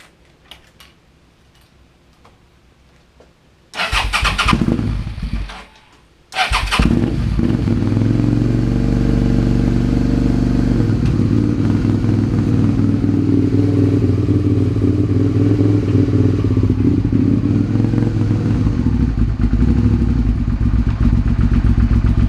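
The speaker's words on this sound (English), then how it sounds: "let me go ahead and start it up here for you." A motorcycle fitted with a Delkevic slip-on exhaust with the baffle removed cranks briefly, catches, then settles into a loud, steady close-up idle; the engine is still cold.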